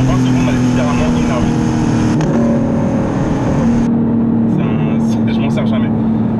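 A Porsche 911 GTS in Sport Response mode pulls hard with a loud, sustained engine drone from inside the car, while a voice talks over it.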